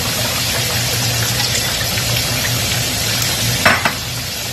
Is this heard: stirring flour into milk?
yes